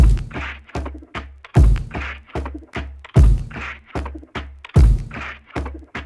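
A dry, punchy drum beat repeating steadily: thick kick thumps, crisp snare hits and short cymbal ticks with no echo or space, loud and close.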